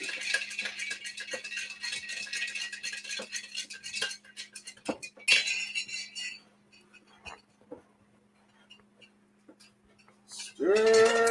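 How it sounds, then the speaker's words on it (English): Utensil clinking and scraping against a bowl while stirring a bourbon Thanksgiving appetizer mixture, a busy run of close rattling taps that thins out near the end before a voice cuts in. "Then we got to stir it up."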